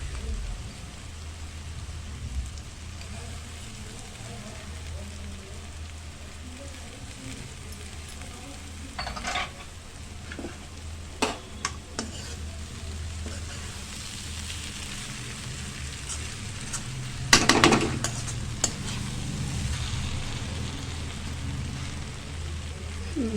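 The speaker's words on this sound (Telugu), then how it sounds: "ఈ కలర్ వచ్చే వరకు సన్న మంట పెట్టి ఇట్లా వేపుకుంటే సరిపోతుంది." Okra coated in gram flour frying in a pan over a low flame gives a steady, soft sizzle, broken by a few sharp clicks and scrapes from stirring.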